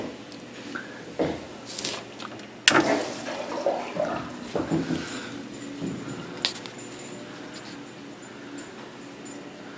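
A Rio 2500 water pump system kicks on, with a sudden splash and gurgle of rushing water that then settles into an uneven watery churn nearby.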